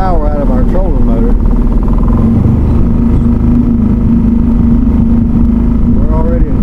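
A Mercury 3.5 outboard motor runs at speed on a Pelican Raider 10E boat, a loud steady drone throughout with wind and water noise, while people talk over it.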